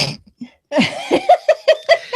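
A single sneeze bursts out close by, followed by a few short, rhythmic laughing or gasping breaths in quick succession.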